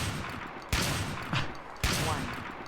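Gunfire in the PC game Trespasser, with two sharp, loud shots about a second apart and a fainter pop between them, heard over a steady low game ambience.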